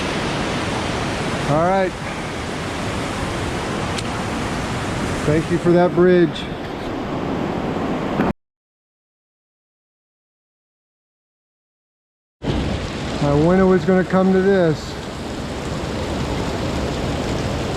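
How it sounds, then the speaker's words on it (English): Broad steady rush of a waterfall pouring over a rock face beside a hiking trail, loud and continuous, with a voice speaking over it and a break of silence in the middle. "The trail goes right underneath the waterfall."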